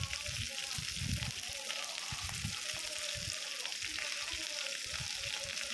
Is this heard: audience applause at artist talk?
no